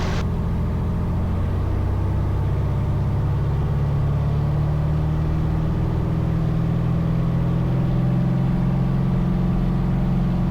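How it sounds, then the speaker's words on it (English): Light aircraft engine running at takeoff power during the takeoff roll, a loud, steady, continuous droning hum that holds constant throughout with slight pitch rise, heard up close from inside the cabin. "Okay, power set. Everything looks normal on the engine."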